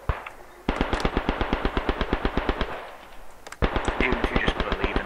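Rapid bursts of machine-gun fire in the WW1 trench-warfare game Beyond The Wire, loud and sustained in two long volleys with a brief pause between them, no voices.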